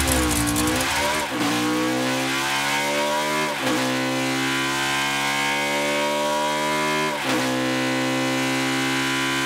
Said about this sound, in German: Hört bitte mal diesen geilen Motorsound an.